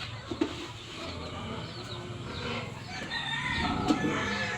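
Backyard chickens clucking as they gather for feeding on a Philippine vegetable farm, soft scattered clucks and calls close by over a steady rustling outdoor background.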